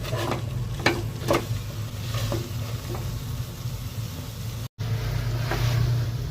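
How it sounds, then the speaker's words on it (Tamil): Vegetables being stirred in a pan with garam masala, turmeric, coriander and chili powder for vegetable pulao: a moderate sizzle over a low steady hum, with occasional clicking spoon strokes and no speech. "Garam masala powder, turmeric powder, coriander powder, chilli powder நல்லா கலந்து விடலாம்."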